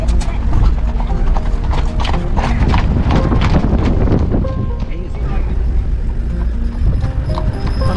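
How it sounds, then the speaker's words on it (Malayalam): Hooves of a horse pulling a cart clip-clop steadily on Aran Island, close and loud, with wind buffeting the microphone and voices in the background. "കുതിരവണ്ടി യൂസ് ചെയ്യുന്ന ഒരു കുറേ പേരുണ്ട്."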